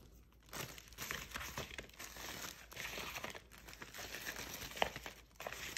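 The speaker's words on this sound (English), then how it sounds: "You get a Ziploc bag. Toss them in a Ziploc." Apples are tossed into a plastic Ziploc bag while making a Tajin apple snack, giving close, quiet crinkling and rustling of plastic in irregular bursts, with a soft knock of fruit near the end.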